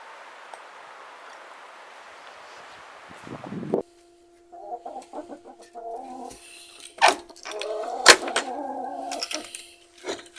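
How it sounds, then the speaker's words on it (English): Garden chickens clucking near a cottage on a February day, soft close clucks and short calls that start after a stretch of quiet hiss and come in uneven bursts, with no voice heard. "I'm going to go and see the chickens as well"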